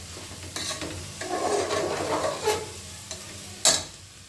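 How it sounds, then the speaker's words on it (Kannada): Coriander leaves being stir-fried in a pan for egg rice: moderate scraping stirs over a soft sizzle, with a few sharper clinks of the spatula against the pan. "ಕೊತ್ತಂಬರಿ ಸೊಪ್ಪು ಹಾಕೊಂಡು ಸ್ವಲ್ಪ ಫ್ರೈ ಮಾಡಿಕೊಂಡು ಹಂಗೆ ರೈಸ್ ಹಾಕ್ಕೊಳ್ಳೋಣ"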